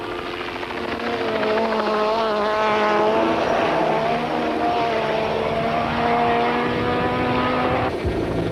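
A 2-litre four-wheel-drive Volkswagen Golf Synchro rally car roars past at a 1991 Toyota Dealer Rally, its engine loud and close, pitch rising through the gears before cutting off abruptly near the end.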